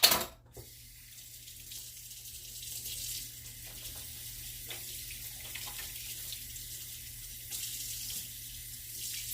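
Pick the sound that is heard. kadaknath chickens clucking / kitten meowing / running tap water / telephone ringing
running tap water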